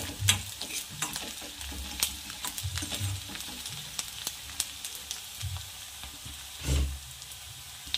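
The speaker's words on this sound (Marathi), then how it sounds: "लसूण जरुरीच आहे, आता थंडी आहे ना, लसूण टाकायलाच पाहिजे।" Small garlic pieces fry in a pan for a methi and peas dish, a quiet steady sizzle broken by sharp spatula taps and scraping strokes, with a heavier stir near the end.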